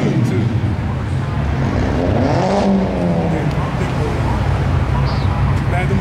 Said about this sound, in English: That car sounds wonderful.